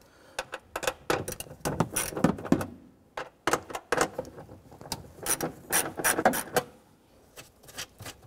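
Ratchet wrench clicking as three 8 mm nuts are loosened from the back of the tail light on a 2008-2012 Honda Accord, with close, rapid bursts of ratcheting separated by brief pauses and handling noises.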